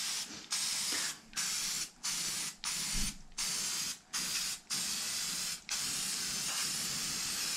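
Makeshift budget airbrush spraying paint onto hobby terrain, a close, steady hiss cut into about nine short bursts separated by brief pauses, with no voices.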